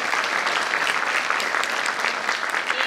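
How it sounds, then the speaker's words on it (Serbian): An audience at an annual folk concert of a cultural-artistic society applauds loudly and continuously, a dense, even wash of many hands clapping from start to finish. "pozdravite ih aplauzom"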